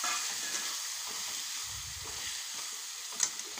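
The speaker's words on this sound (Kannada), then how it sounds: "ಹಸಿ ಮಸಾಲೆ ಮತ್ತು ಒಣ ಮಸಾಲೆ 2 ಚೆಂದಾಗಿ ಎಣ್ಣೆ ಒಳಗೆ ಫ್ರೈ ಆಗಬೇಕು" Wet and dry masala fry in hot oil, giving a steady soft sizzle with occasional stirring scrapes and a small pop near the end, close and fairly quiet with no talking.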